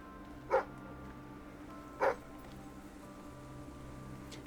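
A dog barks twice in the Fable III video game, two short separate yaps at a moderate distance over a steady low ambient game hum, with no talking.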